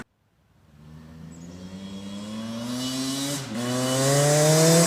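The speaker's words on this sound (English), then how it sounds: "This ice cold, okay, and I'll show you how easy it starts." A cold Beta 200rr two-stroke dirt bike running on Avgas fires up after a moment of silence, then its engine climbs in pitch through a steady rev, dips briefly and rises again to a loud, buzzing high-rpm wail.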